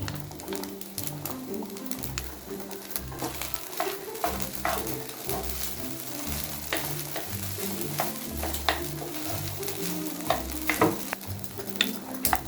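Fried rice (nasi goreng) stirred in a frying pan with a little soy sauce added, giving a steady sizzle with rhythmic scraping and clinking strokes close up, with no talk.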